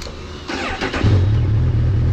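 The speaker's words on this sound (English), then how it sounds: "just getting used to how much you can rev it" Honda CB1000R motorcycle engine, which starts with a short rising burst and then settles into a loud, close, steady low rumble.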